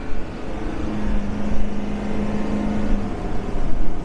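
Steady low engine drone and exhaust rumble from a 2020 Ford F350 ten-speed using its exhaust brake in fourth gear while towing a hotshot trailer, a constant hum with a tonal note held through the middle, fairly loud and without talk.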